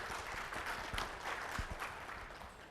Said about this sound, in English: So a big round of applause to you yourself